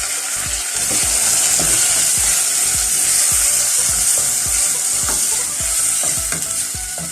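Tomatoes dropped into garlic frying in a pan, steady loud sizzling hiss with repeated rhythmic scraping and stirring strokes, no voices.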